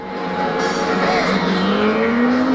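A car engine revs and accelerates steadily as it pulls out of sand onto asphalt, with a rising engine tone that climbs continuously and stays loud and close throughout.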